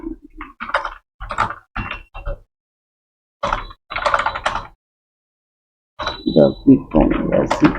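Computer keyboard typing out a sentence in a spreadsheet program, close and clear in short bursts of quick key taps separated by brief pauses.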